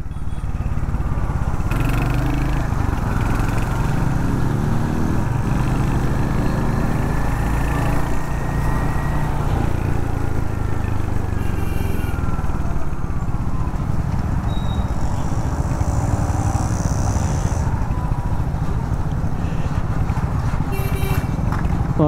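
Royal Enfield Hunter 350 motorcycle ridden on the road, a steady low engine rumble with wind noise running throughout, with faint voices now and then.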